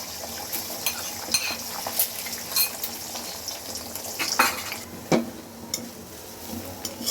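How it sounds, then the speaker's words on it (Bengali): Egg frying in hot oil in a wok, a steady crackling sizzle under repeated scrapes and clinks of a metal spatula against the pan, close and busy with no talk. "চুলায় আমি কড়াই বসিয়ে তেল দিয়ে গরম করে নিয়েছি। এখন আমি আগে ডিমটাকে ভেজে নিব।"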